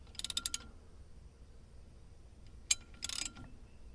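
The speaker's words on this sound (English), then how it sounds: "So I'm going to put it on with a socket by hand." A socket ratchet clicks in two short bursts while a new wheel stud is threaded in by hand on a Chevy S10, crisp and close against quiet.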